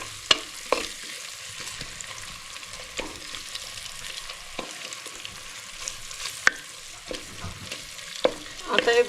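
A traditional monsoon shevala vegetable is sautéed over a low flame in a clay pot, giving a soft, steady sizzle broken by occasional sharp scrapes and clicks from the stirring spoon.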